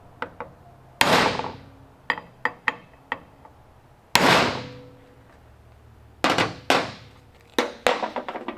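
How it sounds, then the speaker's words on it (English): A hammer strikes a punch to peen a pin head flat on a More Power Puller, sharp metallic blows ringing out close by in irregular groups, some heavy single hits and quicker light taps between. "go ahead and get started on peening that down"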